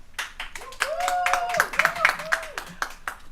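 Scattered clapping from an audience at a women's EV forum, a few claps rising into a short round of applause while voices and a sung or spoken tone carry over it.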